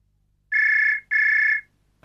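A phone rings twice, two steady electronic trills about half a second apart, clear and close with silence around them.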